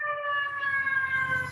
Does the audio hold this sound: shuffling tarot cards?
no